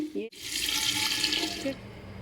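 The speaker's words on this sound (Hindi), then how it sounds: "और अब इसमें मैं डालूँगी यखनी।" Mutton stock (yakhni) pours into a clay pot of fried mutton for handi pulao. A loud, steady gush runs for about a second and a half after a short thump at the start, then cuts off.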